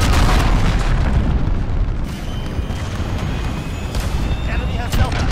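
A cruise missile explosion in Call of Duty Modern Warfare, a heavy rumbling blast and roar filling the whole moment loud and close, with a voice speaking over it.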